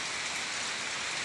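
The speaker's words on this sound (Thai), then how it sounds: "เบิ่งบรรยากาศทุกคนเลยฝนตกนี่" Steady rain falls behind a house in rural Thailand, a dense, even hiss of drops on surfaces with no break and no voices.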